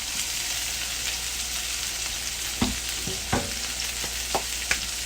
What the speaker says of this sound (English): So I'm going to start searing my pork chops. That's the noise you want to hear.